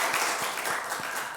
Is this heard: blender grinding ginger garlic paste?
no